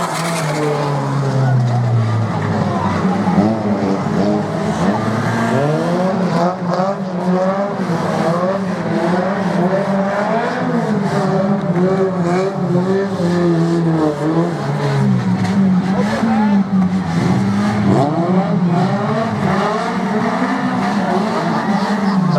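Banger racing cars at a bank holiday meeting revving and skidding through a head-on collision, a continuous loud roar of engines with squealing tyres and wavering pitch, mixed with crowd and commentary voices throughout.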